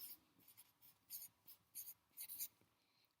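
A pencil scratches on paper close by, with a run of quiet, quick strokes in uneven bursts, as if underlining a word, in an otherwise still room.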